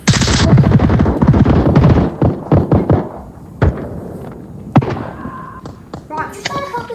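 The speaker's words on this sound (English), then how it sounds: "You guys are shooting." Gunfire in the VR shooter Onward: a rapid automatic burst followed by scattered single shots, loud and close, with players talking over the exchange.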